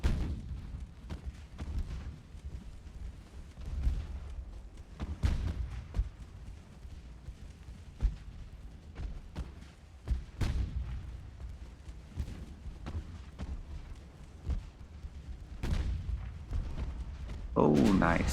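Warship 6-inch guns fire in the naval game Ultimate Admiral: Dreadnoughts, repeated dull booms at irregular intervals over a low rumbling sea ambience, with someone talking at times.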